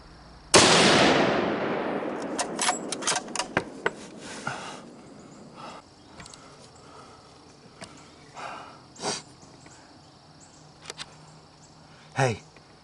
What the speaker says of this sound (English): Hey, I just shot a buck.